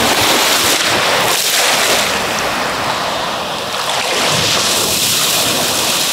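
Ocean waves break on a windy beach, a loud, continuous roar of surf with heavy wind buffeting the microphone, swelling and easing slightly with no voices.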